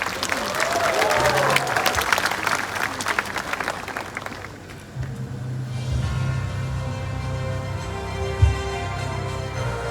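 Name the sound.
audience applause welcoming a guest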